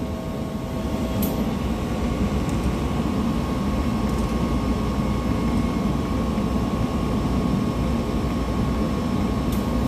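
A Copeland digital scroll compressor runs steadily, giving a continuous low hum with a broad mechanical rumble and a faint high whine, constant in level throughout with no talking.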